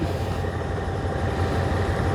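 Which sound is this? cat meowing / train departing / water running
train departing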